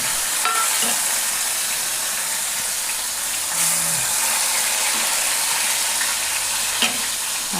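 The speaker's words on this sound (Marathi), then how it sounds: "तेल चांगलं गरम झालं की त्यामध्ये एक टोमॅटो असा मी कापून घेतलेला आहे हे टोमॅटो टाकणार आहे" Cut tomato dropped into hot oil in a kadai, a loud continuous sizzle and crackle with occasional stirring scrapes throughout.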